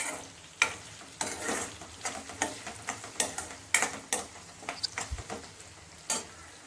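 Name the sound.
frying and stirring a paste in a pan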